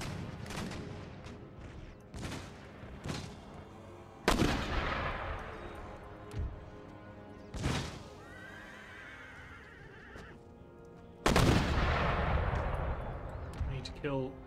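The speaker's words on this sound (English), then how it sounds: "Trouble is their mortars fire faster than ours" Cannon and mortar fire in Empire: Total War, several loud broadband booms a few seconds apart, each trailing into rumble, mixed with horse whinnies and hoofbeats on the battlefield.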